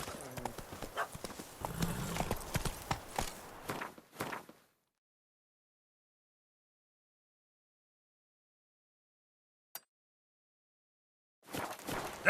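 Hooves clop in a quick rhythm as Roach the horse trots in The Witcher 3: Blood and Wine, close and fairly loud for a few seconds, then silence, a single brief knock, and more hooves at the end.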